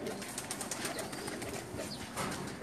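Pigeons kept for flying competitions coo on a rooftop loft, a steady bed of soft, overlapping throaty calls at close range with a continuous background murmur and no talk.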